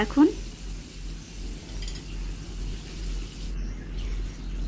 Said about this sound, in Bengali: 4টা চিকেনই আমি একসাথে দিয়ে সুন্দর করে চিকেনগুলো ফ্রাই করে নিব